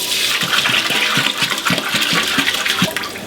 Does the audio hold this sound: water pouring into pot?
yes